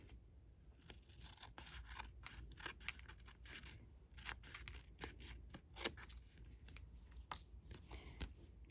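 Scissors snip repeatedly through paper, a quick crisp crunching run of cuts close by, with no talking.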